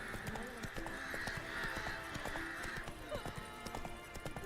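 Hooves of the horse Roach clatter in a quick galloping rhythm in The Witcher 3, with a whinny and a muffled voice over the game's background music.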